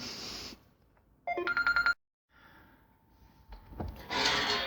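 A telephone rings in a short burst of evenly spaced pulses, fairly loud and close, with faint rustling and shuffling before and after.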